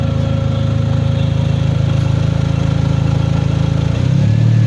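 A Mercedes-Benz SLK 230 M111 turbo engine with bad engine mounts idles roughly and steadily up close, a low throbbing hum with a slight shift in pitch near the end.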